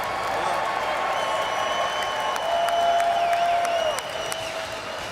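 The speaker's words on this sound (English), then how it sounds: "I'd like all of you to join me in cheering on Justin as his wish comes true." A crowd at the 2024 NFL Draft applauds and cheers, a broad steady roar of clapping and voices that swells in the middle, with a sustained tone running through it.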